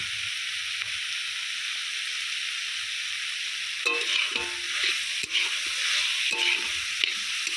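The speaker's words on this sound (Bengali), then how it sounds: "সব কিছু খুব ভালো করে ভেজে নেবো মোচা আলু বেগুনটা ভালো করে ভেজে নিয়েছি" Banana flower, potato and eggplant frying in a pan with ground ginger and cumin, a steady bright sizzle that turns busier halfway with repeated stirring scrapes and clinks.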